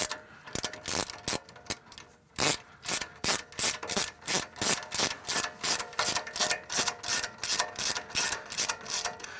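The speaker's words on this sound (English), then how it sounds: "I really like these gear wrenches that you can, with the swivel head on them" Gear wrench ratcheting a 12mm bolt during a wheel bearing replacement on a 2011 Toyota Tundra, with about twenty sharp, loud clicking strokes repeating in a quick, steady rhythm after a few hesitant starts.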